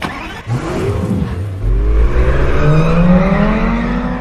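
A black Lamborghini accelerates away in a film scene heading into remote hills, its engine rising in pitch as it revs through a gear, loud and close, with a deep rumble building and then holding steady.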